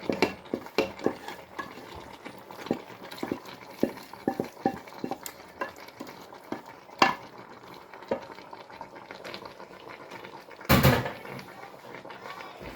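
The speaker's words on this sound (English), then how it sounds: "Okay, let's give it a stir." A spoon stirs steak, caramelised onion and pumpkin in a cooking pot on low heat, making repeated scraping clinks against the pot at an uneven rhythm, with a louder clatter near the end.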